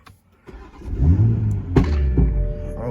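A supercar's engine cranks and fires up, swelling into a loud, close rumbling idle with a few sharp exhaust pops breaking through partway in.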